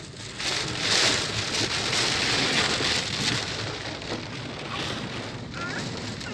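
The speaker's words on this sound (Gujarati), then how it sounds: "જો મિત્રો અત્યારે ફૂલ વરસાદ ચાલુ થઈ ગયો છે સાસણ ગીરમાં." Heavy rain pours steadily in Sasan Gir, a dense, continuous hiss of drops drumming on surfaces close by, with a faint rush of wind across the microphone and no talk.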